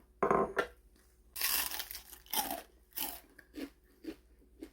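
Loud, close crunching bites into crisp deep-fried halfbeak fish, followed by a series of chewing crunches at a slow, uneven rhythm.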